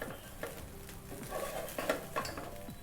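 Ghee rice with fried nuts and dry fruits stirred in a pot: quiet scraping and irregular clinks of a spoon against the metal, over a faint background sizzle.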